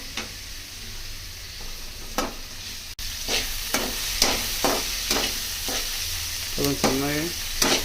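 Sliced onions fry in a hot pan after garlic, with a steady sizzle broken by a series of sharp, rhythmic scraping stir strokes close by; a single brief spoken word is heard.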